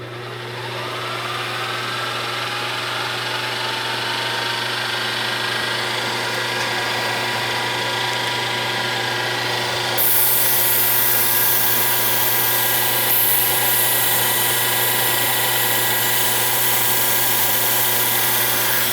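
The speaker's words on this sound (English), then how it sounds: "Put the mill back in high gear." A milling machine runs in high gear with a loud, steady mechanical drone and whine, its pitch and level stepping up slightly about halfway through and holding constant to the end.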